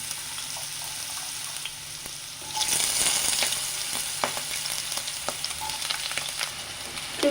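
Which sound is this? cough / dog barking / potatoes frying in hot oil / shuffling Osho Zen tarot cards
potatoes frying in hot oil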